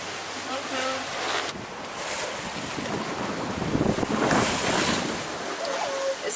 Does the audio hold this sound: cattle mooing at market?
no